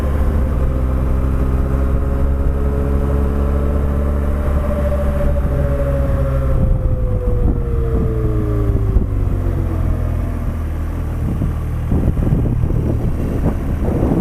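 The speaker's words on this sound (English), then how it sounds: "I can hear the valves and stuff, all the little rattly stuff in the engine." A motorcycle engine hums and rises and falls in pitch on a Portugal road, with a busy rattle of valves inside it, while wind rushes steadily past.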